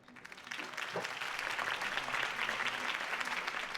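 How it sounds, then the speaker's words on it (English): Applause from a video game crowd bursts out, rising quickly and holding a dense, steady clatter of clapping for several seconds. "could have heard that applause"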